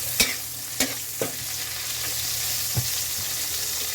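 Onion, tomato and garlic sautéing in a pan, a steady hiss of frying broken by a few sharp spatula knocks and scrapes, close and clear, with no talking.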